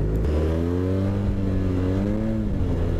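A Yamaha TMAX 530 maxi-scooter engine revs nearby, its loud, smooth drone rising and then falling back over a few seconds.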